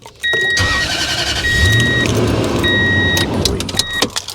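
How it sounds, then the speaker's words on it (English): A truck engine cranks and catches with a Lokithor J400 jump starter connected, then idles loudly and steadily close by, with a high electronic beep tone recurring over the rumble and a few clicks near the end. "So I'm gonna go start the truck now."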